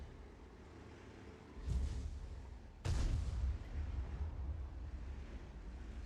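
Two heavy booms from enemy M53/M55 self-propelled artillery in World of Tanks, a few seconds apart, each a sudden low blast fading into rumble over a windy ambient bed.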